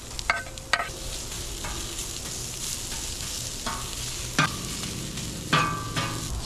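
Thinly sliced medium onion sizzles on a piping hot Blackstone griddle, a steady close frying hiss broken by a few sharp scraping clinks of a spatula.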